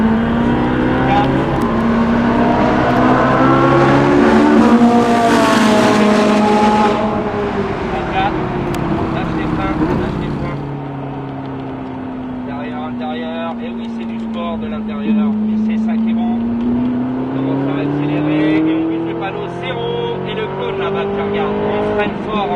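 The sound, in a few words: race car accelerating on track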